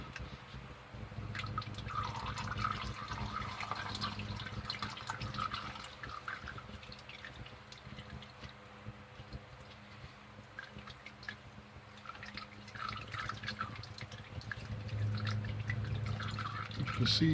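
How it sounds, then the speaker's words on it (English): Motor oil draining from the oil pan of a 2007–2013 Chevy Silverado into a catch pan, a steady dribbling, trickling liquid stream with faint drips, continuous and close, no talking over it. "just kind of let the oil just kind of start to drain out of it"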